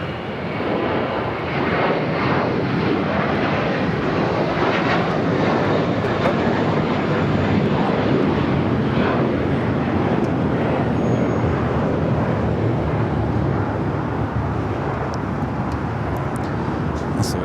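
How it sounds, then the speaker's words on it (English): An American Airlines A321 jet takes off from the south side of Los Angeles airport, a loud continuous roar holding steady across the clip with faint background traffic. "American A321 taking off here on the south side"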